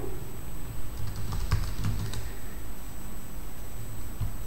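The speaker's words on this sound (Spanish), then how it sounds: "Tecleamos el nombre de la carpeta" Quiet clicks of someone typing a folder name on a computer keyboard, a short burst of keystrokes over a low background hiss.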